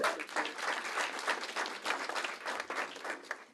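An audience at an evening community conversation event breaks into applause: a soft, even roll of many hands clapping in the room, heard from a distance with no talking.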